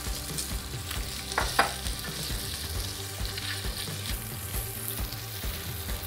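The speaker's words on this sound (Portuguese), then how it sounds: "Fritei então essa linguiça e o bacon." Bacon and smoked sausage fry together in a pan in a busy, crackling sizzle, with stirring clatter and low knocks running through it and a few sharper pops standing out; no one speaks.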